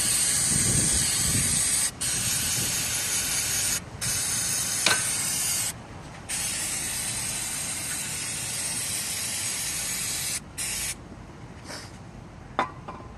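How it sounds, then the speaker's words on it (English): A loud, continuous spray of brake cleaner hisses at close range on a car engine, broken by several short pauses, with a few faint clicks. "Give her one more spray down."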